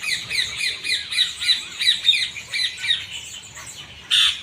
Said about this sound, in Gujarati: ચકલા ગોઠિયા ખાઈ ખાઈને હવે સુખ શાંતિથી ઝાડ ઉપર બેસી રહ્યા છે, કિલોલ કરી રહ્યા છે